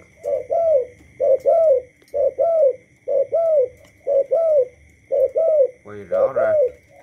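A Thai black dove coos repeatedly in a steady rhythm, about nine paired coo phrases in seven seconds, close and clear over a faint constant hum, with a voice briefly overlapping near the end.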